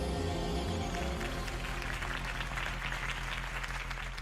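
A crowd claps and cheers steadily in Batman: The Telltale Series, a dense wash of applause with a low musical hum underneath, fairly quiet overall.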